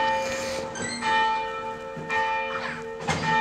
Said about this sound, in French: Il y a le curé qui s'épuise à sonner les cloches.